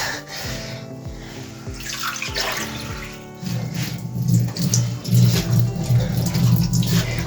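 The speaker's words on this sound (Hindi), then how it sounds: "थोड़ा सा हम पानी के साथ इसको नरम करेंगे" Water runs from a tap while being added to beef chapli kabab mixture to soften it, first a few separate splashes and then a steadier, louder gushing stream, close by.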